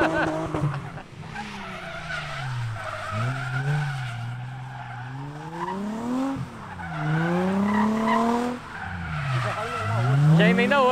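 Subaru STI tires skidding while drifting, long rising and falling squeals with a revving engine, loud and close, repeating through several slides under a voice.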